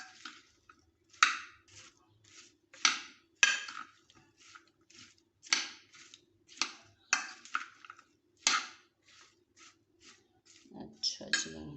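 A spoon clinks and scrapes against a bowl while fruit chaat is stirred with dates, a series of sharp, fairly close taps at an uneven rhythm, fainter between strikes, with no talk.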